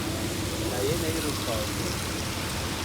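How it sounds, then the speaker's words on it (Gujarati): Steady rain falls around a Hanuman temple during a night vigil, a continuous dense hiss that fills the space at even, fairly loud level, with faint voices beneath it. "વરસાદ ચાલુ છે જો"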